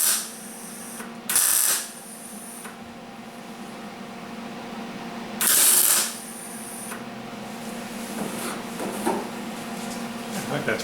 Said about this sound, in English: Let's get it welded.